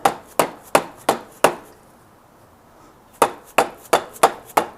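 A new stud tapped with a hammer into the cylinder of a Suzuki TS250 motorcycle engine, two bursts of five sharp metallic taps, close and loud, separated by a quiet pause.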